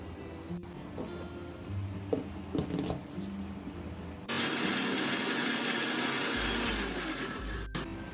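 A grinder purees bottle gourd leaves and green chillies into a thick paste without water: quiet handling sounds and light taps first, then a loud, steady motor whir that starts midway and keeps going to the end.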